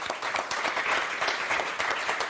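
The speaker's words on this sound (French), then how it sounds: "on va vous applaudir très fort" A studio audience on the French game show Motus applauds steadily, a full, even clapping that holds at one level from start to finish with no voices over it.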